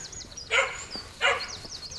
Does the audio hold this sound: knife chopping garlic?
no